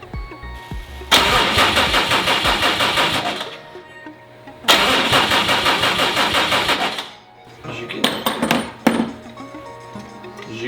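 A car engine cranks hard with a rapid rhythmic chug in two long bursts, nearly catching, followed by a few brief sputtering crank attempts, loud and close.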